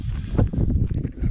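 Wind buffets a microphone at an exposed desert lookout, a continuous low rumbling roar with uneven gusts and no talking.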